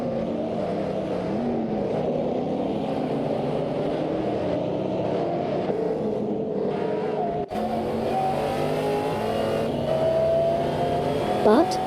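Race cars, including an Aston Martin DBS and a Ford Mustang GT, roar through a video game race with a steady engine drone, rising revs and shifting pitch as cars battle side by side.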